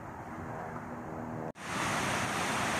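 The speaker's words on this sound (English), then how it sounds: "This is the water flowing out of the Sacramento Weir with the gates closed." River water pouring out of the Sacramento Weir in California with its gates closed during high flow, a continuous broad rushing roar that cuts out abruptly for an instant, then returns louder and fuller.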